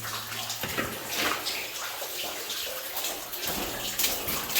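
Water flows and splashes steadily near a waterfall in a valley, a broad rushing wash that swells and surges in bursts, close and fairly loud, with no voices over it.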